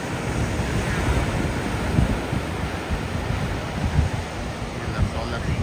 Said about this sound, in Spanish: Y nada más las olas bien grandes por aquí.